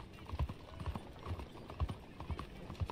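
Horse hooves clip-clop in steady rhythm in Red Dead Redemption 2, with two horses following along, the thuds fairly close and moderately loud over a low background bed.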